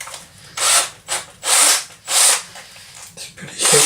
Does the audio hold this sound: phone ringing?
no